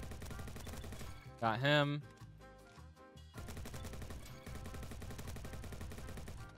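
Automatic rifle fire in the Roblox shooter Bad Business with a G36, sustained loud bursts broken by a short pause, with a brief spoken voice in the middle.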